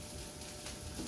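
Chorizo and onions fry in a pan with a dense, steady, close sizzle throughout the short moment.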